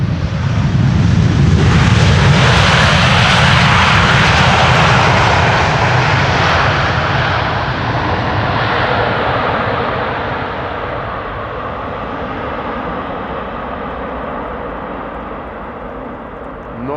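An airliner lands on runway 18R at Amsterdam Schiphol with thrust reversers deployed. A loud, broad roar swells in the first seconds, then slowly eases and fades as the aircraft decelerates.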